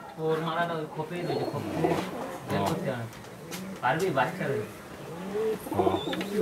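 A pigeon coos continuously in low, rolling, throaty phrases close by, sometimes overlapping another coo, with no pauses.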